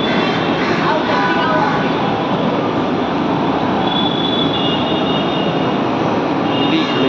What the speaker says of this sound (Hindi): देख सकते हो मेट्रो आ गई